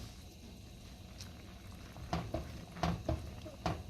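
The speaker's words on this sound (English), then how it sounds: "Just make sure that you keep stirring." A spoon stirring zucchini parmesan risotto with cheese and cream in a pan, soft thick bubbling under a few light scraping clinks that grow more frequent toward the end.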